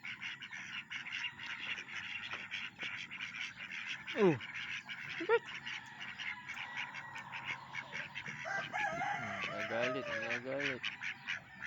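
Ducks quack on a farm with native poultry, a few loud nasal calls standing out around the middle and a burst of quacking near the end, over a steady background hum, while a person speaks softly.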